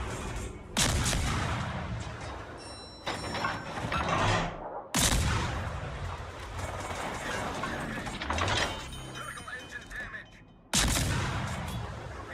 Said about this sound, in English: Shoot your guns